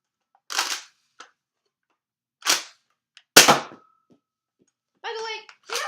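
An Apollo toy gun fires several sharp, loud cracks and snapping clicks in an uneven rhythm, each burst short and close, with brief quiet gaps between them.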